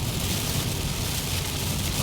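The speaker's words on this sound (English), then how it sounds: "It's raining pretty good, pretty loud." Heavy rain drums steadily on a car at highway speed, around 65 mph, a dense continuous wash of noise with low road rumble and no pauses.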